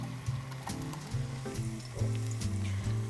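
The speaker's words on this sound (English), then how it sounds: "you can really get a nice, like a light fry on the garlic" Garlic fries in plenty of olive oil in a tilted pan, a close, steady sizzle with crackling bursts and a faint tonal hum beneath.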